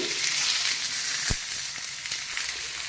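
Vegetable thalipeeth fries on a banana leaf in a pan with a steady, close sizzle and crackle, broken once by a single sharp knock.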